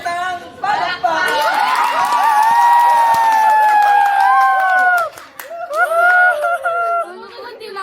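Audience at an outdoor environmental walk event applauds and cheers for the winners of a tomato-eating challenge, a loud burst of clapping with excited shouts and crowd chatter lasting about five seconds, then dipping before more cheering voices rise again.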